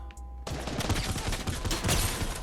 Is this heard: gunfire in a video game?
yes